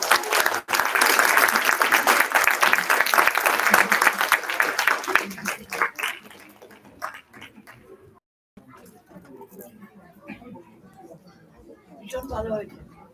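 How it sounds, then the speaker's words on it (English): A crowd applauds for children at a birthday celebration, loud sustained clapping for about six seconds that fades out, followed by quieter talk and scattered sounds with a brief burst near the end. "another round of applause for the kids."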